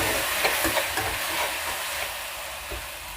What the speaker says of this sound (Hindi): इसको अच्छे से चलाएंगे।